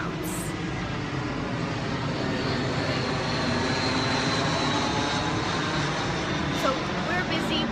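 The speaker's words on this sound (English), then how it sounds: "just in time for the airplane" A fixed-wing airplane drones overhead, a steady broadband engine roar that holds loud and even throughout, with a voice talking underneath.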